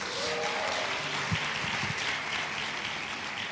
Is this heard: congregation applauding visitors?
yes